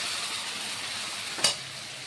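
Tomato paste goes into hot oil with fried black cumin, giving a constant loud sizzling hiss with one sharp spattering burst partway through.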